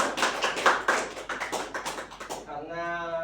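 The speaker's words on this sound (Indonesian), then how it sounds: "Tepuk tangan untuk kita semua" Hands clap and tap in a brisk, uneven burst for a classroom group at the end of a microteaching lesson, close and moderately loud, fading out as a sustained tonal hum takes over.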